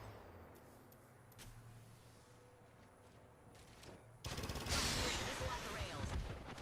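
Gunfire in the Apex Legends video game: faint scattered shots at first, then a sudden loud burst of rapid automatic fire and impacts that carries on to the end, with no talking.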